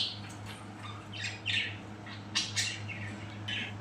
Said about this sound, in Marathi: आणि यांचा चिवचिव असा चालू होता.